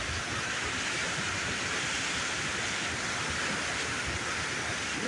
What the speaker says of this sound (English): we've got a lot of water coming down.